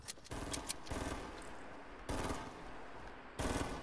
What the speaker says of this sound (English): Keep shooting at it.